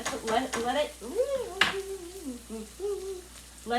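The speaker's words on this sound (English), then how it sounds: "I want to get the sausage a little bit browner because brown food is tasty food" Sausage browns in a frying pan with a steady sizzle, while a voice with rising and falling tones runs over it for most of the stretch.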